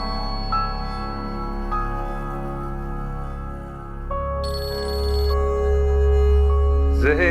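A mobile phone rings with a repeating electronic melody of sustained tones that change pitch in steps, moderately loud over low background hum, with a sharp burst at the very end.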